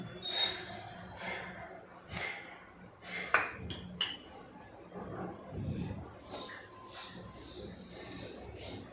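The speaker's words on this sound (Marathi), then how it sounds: "त्यामध्ये आपण तीळ हे पहिला भाजून घ्यायचे" Sesame seeds roasting in a hot kadhai, with scattered clinks and scraping of a utensil against metal over a soft, steady crackle.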